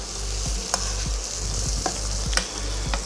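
Onions, garlic and ginger frying in a pan over medium heat give a steady broadband sizzle, with occasional scrapes and clacks of a utensil stirring them, no voices.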